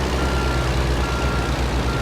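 Reversing beeps from a truck in American Truck Simulator, a steady repeating electronic tone over a constant low engine hum, loud and close, with no talk.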